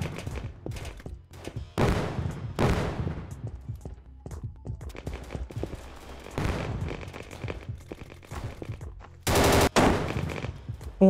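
Gunfire and grenade blasts in the video game Clownfield 2042 during a team deathmatch: repeated loud bursts of automatic fire and heavy booming impacts, some close and some farther off, with brief pauses between volleys.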